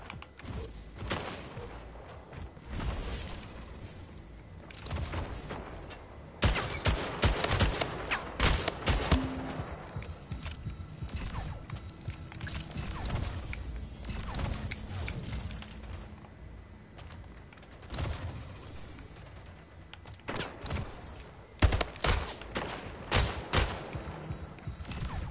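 Shotgun fire in the arena shooter Splitgate cracks out in repeated heavy blasts and rapid bursts across a busy firefight, loud and close, with scattered thuds between volleys.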